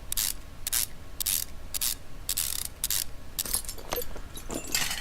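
Ratchet wrench undoing exhaust manifold bolts in Car Mechanic Simulator 2015, heard as repeated bursts of bright metallic clicking separated by short pauses, close and fairly loud.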